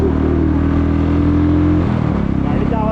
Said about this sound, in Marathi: गाडीचा आवाज पण खूप छान येतोय